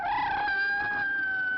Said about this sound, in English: Must be something wrong with the cat.